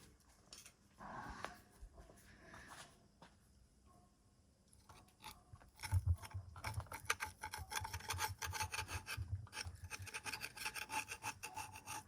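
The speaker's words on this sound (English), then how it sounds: "Hopefully that will scrape straight off now." Residue being scraped off a car bumper during paint prep: faint rubbing at first, then steady, close rasping strokes in a quick repeating rhythm for the last several seconds.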